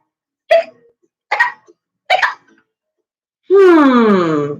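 A storyteller's voice imitates hiccups: three short, sharp hiccup bursts spaced about a second apart, followed by a longer drawn-out wailing sound, loud and close with no background.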